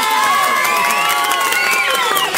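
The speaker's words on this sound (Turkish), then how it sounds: "Bir de Şener abinizi bir alkışlar mısınız?" Crowd applause and cheering at a free mussel giveaway in Karagümrük, a brief burst of clapping mixed with excited voices and shouts.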